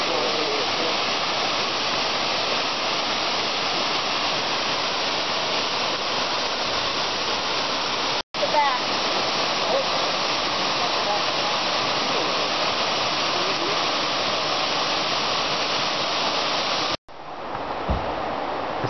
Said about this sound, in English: It's a short trail and a beautiful little mountain waterfall.